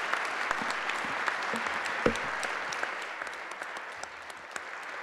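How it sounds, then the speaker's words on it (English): Sustained applause from an audience at an evening event marking twenty years of the Good Friday Agreement in Northern Ireland, steady and dense throughout, slowly thinning toward the end, with a few louder claps standing out. "How about a round of applause for all of"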